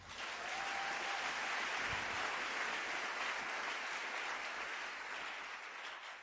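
A church congregation applauding, a broad, even wash of clapping from many people that swells in and fades slightly toward the end, somewhat distant and without voices on top.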